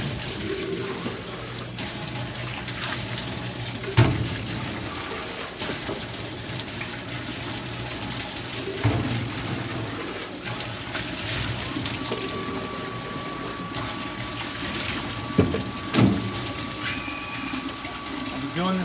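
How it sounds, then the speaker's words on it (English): Hot water runs steadily from a tap to rinse a sink after chicken butchering, a continuous gushing hiss with occasional clunks and splashes, and some speech mixed in. "Some hot water. Rinse off the sink."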